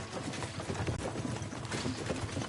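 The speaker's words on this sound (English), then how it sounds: "Nice horses you have there." Horses on the move in Kingdom Come: Deliverance, a steady rhythm of hoof clip-clops at medium distance over a soft ambient bed, with no talking.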